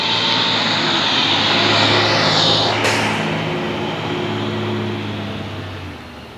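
A large vehicle passes on a breezy day, a broad loud engine roar that swells, peaks midway and slowly fades, with no talk.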